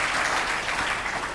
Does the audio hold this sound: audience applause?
yes